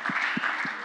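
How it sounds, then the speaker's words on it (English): A church congregation claps hands in a quick, rhythmic beat, three soft, evenly spaced claps heard over a low wash of room noise and murmur. "Clap your hands unto the Lord."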